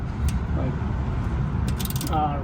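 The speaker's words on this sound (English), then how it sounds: "so I can go ahead and tighten it up like a regular socket wrench" A ratcheting socket-style wrench with a 14 mm socket tightens a bolt on a Honda Accord front lower control arm, giving a few brief close clicking bursts over a steady low garage rumble.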